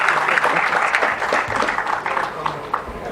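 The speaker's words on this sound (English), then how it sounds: "Can we have a round of applause?" An audience claps at an institute inauguration ceremony, a full round of applause with audible individual claps, loud at first and slowly thinning toward the end.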